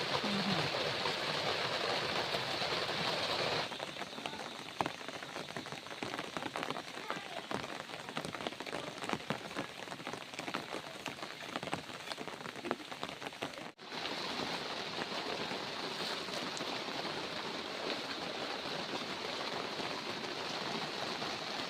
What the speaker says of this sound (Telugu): వర్షం ఎలా పడుతుందో చూడండి